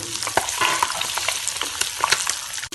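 Eggs coated in turmeric, Kashmiri chili powder and salt fry in a pan, giving a steady close sizzle with scattered stirring scrapes and light pops throughout, no voices.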